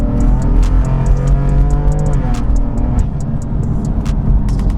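BMW M4 F80 with a Bootmod3 stage 2 tune accelerating hard in third gear up a hill, a loud, steady engine roar with rising harmonics and sharp exhaust pops crackling over it throughout.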